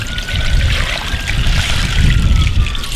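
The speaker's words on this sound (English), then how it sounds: "So I'm just going to slowly dump it out without losing any of the brass or the pins that are down in there." Dirty rinse water is slowly dumped from a bucket of brass cartridge cases and pins, making a continuous splashing, trickling pour at close range with no talking.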